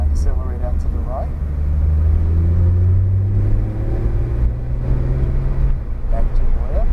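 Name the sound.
Porsche accelerating out of a corner on a track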